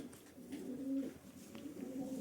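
Soft, repeated pigeon cooing, low and rounded, a few calls rising and fading over steady background murmur.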